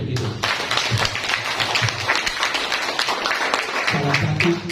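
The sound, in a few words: applause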